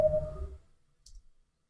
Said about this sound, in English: this simple little metallic twinging sound we have here